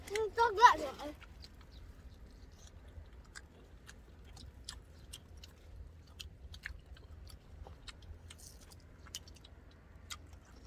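Crunchy blanched squid being chewed close up, a brief louder burst at the start followed by soft, irregular bites and crunches over a quiet background, with a person speaking briefly.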